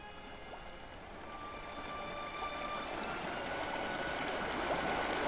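River flowing in the Rivenworld video game, a steady rushing stream that swells slightly louder over the few seconds, continuous and unbroken with no talk.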